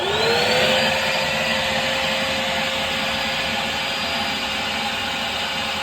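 Shop vacuum roaring steadily through a homemade DIY flow bench, a loud continuous whine with a rising tone at the start that settles into an even, unbroken drone.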